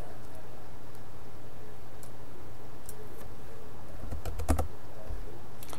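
Someone typing a tracking number on a computer keyboard, producing a few scattered key clicks and then a quick close cluster of taps over a low steady hum, with no talking.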